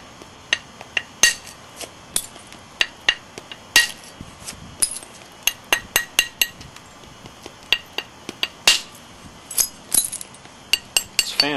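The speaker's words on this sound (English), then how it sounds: "I think we can start taking some thinning flakes off now to get these saw marks off of here." Flintknapping on a stone slab, thinning flakes struck off one after another: a long run of sharp, ringing clicks and taps at an uneven pace, close and clear with no talking.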